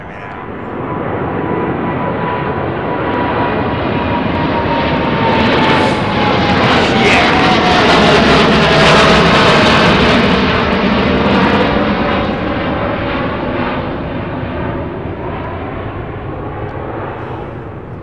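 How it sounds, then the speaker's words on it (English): A Biman Bangladesh Boeing 787 climbs out after takeoff from Heathrow's runway 09R, a loud jet roar that swells to a peak midway with a sweeping whine, then slowly fades as it passes overhead. "here's that Biman Bangladesh 787 climbing out"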